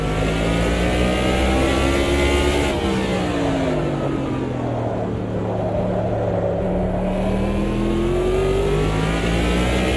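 NASCAR stock car lapping a track in Automobilista 2, its loud engine droning steadily and rising and falling in pitch through gear changes and corners, heard close with no talk.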